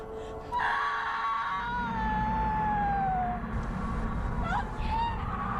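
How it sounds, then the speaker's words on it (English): A woman gives a long, anguished, wailing cry that rises and falls in drawn-out sobbing tones, loud and close over a low rumbling background. "Meng let out a terrible cry."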